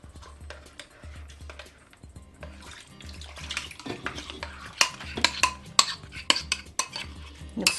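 A spoon scrapes and clinks against a pot as braised chicken sauce is stirred, irregular sloshing strokes growing louder and busier toward the end, with no talking.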